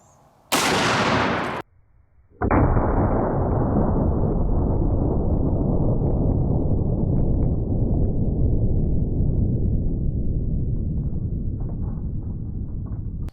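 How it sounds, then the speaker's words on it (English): A .50 caliber rifle exploding as it is fired: one sharp, loud blast, a brief pause, then a second heavy burst that rolls into a long, loud rumble. The rumble slowly fades and carries no voices. "So when I pulled the trigger, the gun exploded almost immediately."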